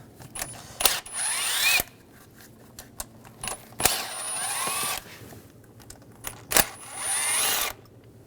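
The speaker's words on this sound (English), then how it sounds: "Using a E10 socket, we're going to take all the manifold bolts out." A power tool, likely an impact driver or drill with a 10 mm E-Torx socket, removes intake manifold bolts on a 2006-2009 Mercedes-Benz E350 3.5L V6 in three loud whirring bursts with clicks between.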